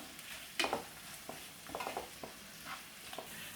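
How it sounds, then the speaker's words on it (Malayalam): Onions sautéing in a pan for chicken majboos, soft sizzling with a few scraping stirs of a spatula, fairly quiet and close. "ഇനി എല്ലാം കൂടെ വീണ്ടും ഒന്ന് നന്നായിട്ടൊന്ന് വഴന്നു വരട്ടെ അത്യാവശ്യം നല്ല രീതിയിൽ തന്നെ സവാള വഴന്ന് വരണം"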